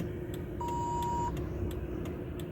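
A single steady electronic beep sounds for under a second inside a taxi over a constant low engine-like drone, with faint rhythmic ticks in the background.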